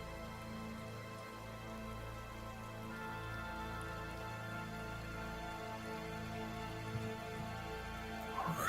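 Soft, steady rain patters throughout under droning tabletop RPG background music, with no clear individual drops and no voices.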